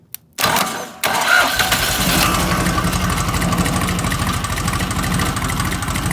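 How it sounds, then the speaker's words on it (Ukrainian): A cold car engine cranks briefly, catches and roars to life, then settles into a loud, steady idle with a rough rhythmic chug. "заводимо його на холодну"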